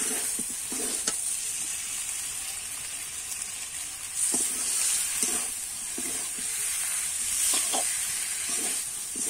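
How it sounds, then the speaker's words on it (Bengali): Silver carp curry with chilies, potato and taro sizzles steadily in a pan while a spatula scrapes and stirs it now and then in short clusters of knocks, with no talk over it. "এইবারে ভালো করে কিন্তু আমি কষিয়ে নেব।"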